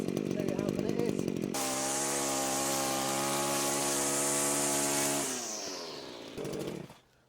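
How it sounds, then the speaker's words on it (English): A Cobra GT260C bent-shaft petrol grass trimmer revs up loudly and holds a steady high-pitched whine while cutting grass for several seconds, then winds down to a lower idle with a brief final rev. "So we're going to cut some grass and show you how good it is."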